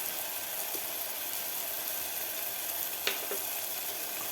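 Bedgi red chilli powder and pav bhaji masala sizzle steadily in a pan, a constant close frying hiss with a few faint stirring clinks and no talk.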